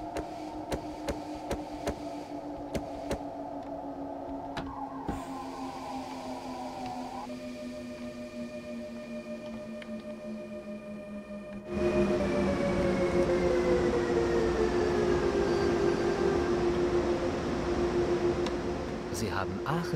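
A BR 187 electric locomotive slows under braking in Train Sim World 2, its steady tonal motor whine sliding gradually downward while a louder rushing rail noise swells in the second half; a voice may be faintly present.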